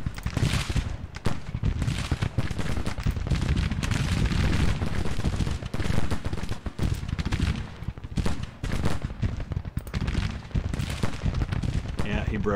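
Rapid gunfire and cannon blasts from a Civil War battle in the strategy game Grand Tactician: The Civil War, a dense, continuous barrage of crackling volleys and booms with voices mixed in.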